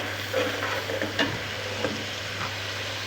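Chicken pieces frying in a pan with a spice paste over medium heat, a steady soft sizzle under occasional scraping stirs of a spoon, close and moderately quiet, with no talk.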